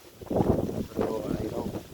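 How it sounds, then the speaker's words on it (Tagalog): Strong wind sweeping across a sweet pepper farm after ten dry days, buffeting the microphone in loud, rough gusts that rise and fall twice over a couple of seconds. "pero grabe ang hangin po"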